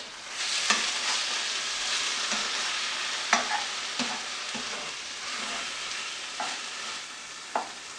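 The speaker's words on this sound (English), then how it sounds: "Just saute it a bit." Chicken pieces for butter chicken sizzle quietly in a hot pan, with a few sharp scrapes and taps as they are stirred and moved around.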